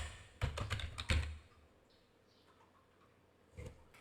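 A quick burst of computer keyboard typing, several close clicks in a row, then quiet before a single key press near the end, soft and near in a quiet room.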